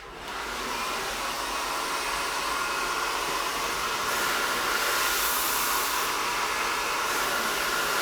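A hair dryer blows steadily while hair is curled around a round brush for a volumizing blow-dry, a loud, close, continuous rushing whoosh that starts at once and holds nearly unchanged throughout.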